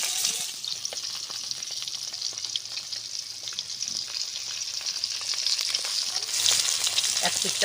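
Latha fish frying in hot mustard oil in a wok, a steady close sizzle with crackling spits throughout, no talk.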